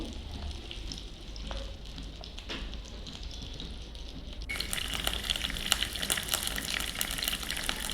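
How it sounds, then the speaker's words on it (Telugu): Cut eggplant pieces frying in hot oil in a pan, a steady close sizzle that swells suddenly into a louder, brighter crackle partway through, with no voices. "వంకాయలు ఇలా మంచిగా ఫ్రై చేసుకోవాలి ఇలా రెడ్గా అయ్యేంతవరకు ఫ్రై చేసుకోవాలి"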